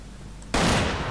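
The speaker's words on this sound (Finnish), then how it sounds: "Mä ammun tuo." A single gunshot fires in the video game Resident Evil 5, a sudden loud crack after a quiet lead-in, followed by a sustained noisy tail.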